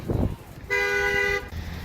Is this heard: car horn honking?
yes